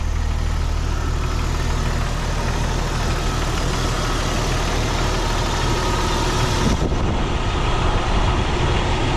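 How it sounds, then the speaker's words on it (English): A Jeep Cherokee engine idles steadily with its AC compressor engaged, a constant loud mechanical drone that holds evenly throughout with no talking. "the compressor is engaged, it is running"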